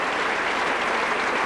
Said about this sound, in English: Sympathetic applause from this large crowd here